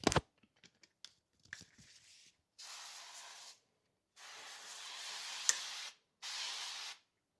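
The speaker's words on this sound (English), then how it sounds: "I'm just going to take some avocado oil spray" After some clicks and light handling noises, an avocado oil cooking spray hisses in three steady bursts, each lasting about a second, close by.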